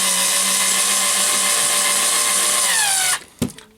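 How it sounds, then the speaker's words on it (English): A power drill drives screws into a roller blind bracket, whining loud and steady for about three seconds before winding down, followed by a couple of sharp knocks. "So that's both screws fully tightened and bracket nice and secure."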